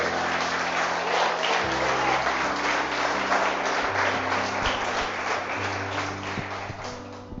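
Church congregation applauding after a sermon, steady dense clapping from many hands sustained throughout and fading slightly near the end, with low organ or keyboard tones beneath.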